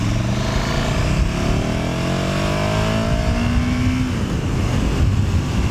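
KTM Superduke R motorcycle engine revving up through the gears, loud and close, with rising harmonic whine that climbs steadily toward the redline over continuous roaring exhaust, no talking.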